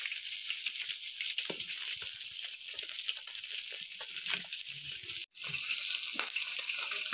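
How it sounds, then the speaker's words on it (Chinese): Small fish frying slowly over low heat in a pan, a steady dense sizzle with crackling pops running throughout, briefly cut off near the end before resuming. "现在我大姑在这里煎鱼"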